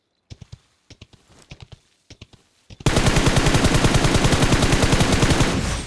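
In-game M4 rifle fire: a few scattered single shots, then a loud sustained rapid burst of automatic gunfire at close range.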